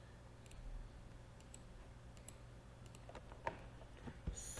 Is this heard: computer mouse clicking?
yes